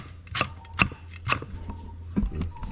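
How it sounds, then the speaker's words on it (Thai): A knife thinly slices young galangal on a cutting board, giving several crisp, close chopping taps at an irregular rhythm with no one talking. "ทีนี้เราก็จะ ซอยบางๆเลย นี่ครับขาอ่อน"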